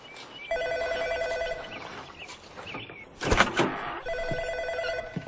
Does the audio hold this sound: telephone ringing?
yes